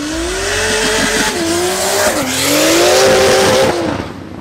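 Competition cars in a Pro class practice session skid with squealing tyres, loud rising and falling screeches layered over roaring engines, sustained and close throughout.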